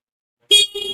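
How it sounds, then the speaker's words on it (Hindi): A 2022 Honda Shine 125 motorcycle horn beeps twice close by, a loud first honk followed by a shorter second one after a brief silence. "और कुछ इस तरह से आपको हॉर्न मिलता है इस पर्टिकुलर होंडा साइन में"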